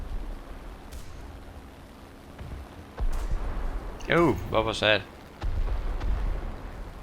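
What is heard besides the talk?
tank cannon firing in the video game War Thunder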